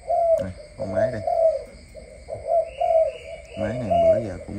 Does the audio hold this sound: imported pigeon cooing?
yes